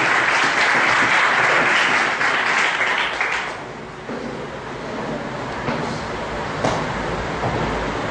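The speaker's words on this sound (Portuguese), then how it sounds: "Dê a melhor saúde de palmas que você tem na gente." A crowd claps loudly for several seconds, then the applause thins to scattered clapping and a steady room murmur.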